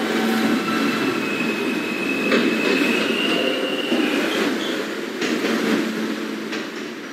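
A Brooklyn-bound R local subway train at Whitehall Street station in New York, rumbling and clacking loudly up close while its wheels let out long high-pitched squeals and metallic screeches against the rails.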